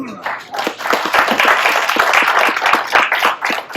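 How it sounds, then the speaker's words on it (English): Conference audience clapping as a keynote speaker comes on stage, a moderate room of hands with sharp individual claps near the microphone, continuing unevenly for several seconds. "And he enters to thunderous applause."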